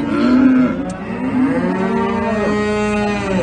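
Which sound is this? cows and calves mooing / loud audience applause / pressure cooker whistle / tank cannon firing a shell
cows and calves mooing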